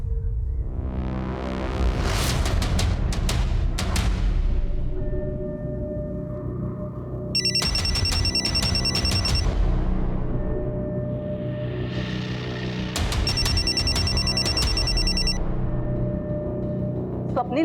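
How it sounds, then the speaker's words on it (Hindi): A phone rings in two repeated electronic bursts over a low, droning musical background. "स्वप्निल, मैं तुम्हारे फोन का ही वेट कर रही थी।"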